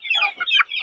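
Basilan native chickens on a farm cluck loudly and close by in a quick, busy run of calls with no talk over them.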